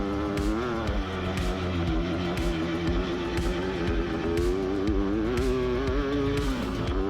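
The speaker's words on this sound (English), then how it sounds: "I'll turn the volume up a little bit on the bikes" Dirt bikes racing on a track, their engines droning together in a steady rising and falling whine with repeated passes sweeping by, loud and continuous, with no talk.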